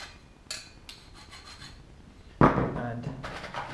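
Drilled rivet holes in a Zigolo aircraft wing rib are deburred by hand, with a couple of brief light scrapes followed by a louder, sustained rasping scrape close by.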